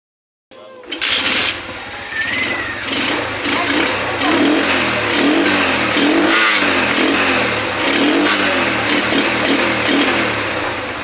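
An old motorcycle engine, stored for twelve years, is started after carburetor cleaning. It catches abruptly and runs loud and close with a rough, uneven idle and occasional revs throughout, and a voice is faintly heard beneath.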